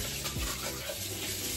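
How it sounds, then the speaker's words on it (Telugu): Water running from a household tap, a faint steady splashing flow continuing throughout the short stretch, heard alone without talk. "ట్యాప్ ఆన్ ఉంది"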